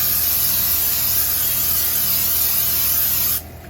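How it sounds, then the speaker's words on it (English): A steady aerosol hiss of butter-flavored cooking spray onto a pan, loud and close, running continuously for about three seconds before cutting off abruptly. "We're just going to spray our pan, which is butter flavored cooking spray."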